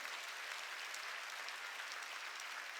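Church congregation clapping steadily during a worship service, a dense, continuous wash of hands striking together at even volume throughout, with no voices rising above it.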